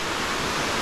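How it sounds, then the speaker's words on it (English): A waterfall in Nepal gives a brief, steady, broadband rushing roar, even and unbroken, with no voices. "Look at the beautiful waterfall."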